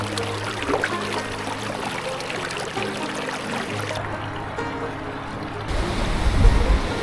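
Water collected from a mountain stream high in the Pyrenees: a steady rushing, splashing flow close to the microphone, with a louder gurgling surge near the end.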